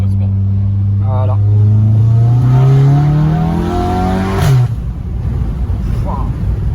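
Volkswagen Golf 7 GTI Stage 3 tuned to 425 hp, in sport mode, revving loudly up through a rising drone that cuts off abruptly, then a rough settling note, with someone talking over it.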